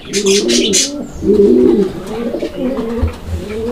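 Fancy pigeons coo at a pigeon farm in Bangladesh, close and loud, with repeated throaty rolling coos and a few brief higher chirps at the start.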